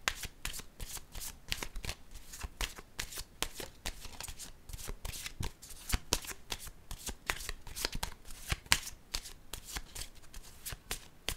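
Tarot cards are shuffled close up in a fast, continuous run of crisp flicking riffles, quiet and steady with no talk.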